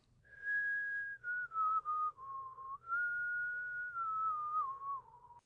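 A woman whistles a slow, wavering tune alone, one long sustained phrase with brief breaks, clear and close over faint low background hum.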